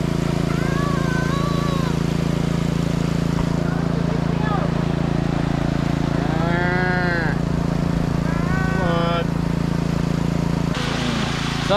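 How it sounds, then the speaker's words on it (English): Cattle moo in the outback, cows and a steer calling with several drawn-out bellows spaced apart over a steady low rumble, fairly close and loud, with someone talking at times. "That fella there's a steer. Not too sure, I think that one's a cow."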